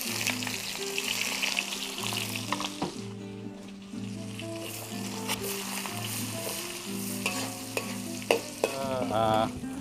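Ginger, galangal, garlic and shallots sautéing in a pan for Javanese sambal goreng, a steady close sizzle with scraping stirs and clinks of a utensil against the pan, background music playing underneath throughout.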